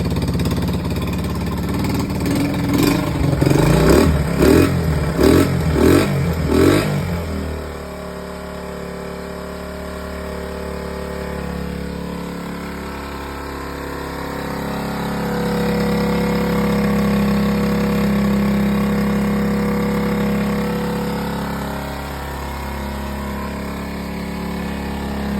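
A 1971 Honda SL70 motorcycle makes a cold start, with a few seconds of rhythmic cranking and sputtering before it settles into a steady, low, close idle that swells slightly midway.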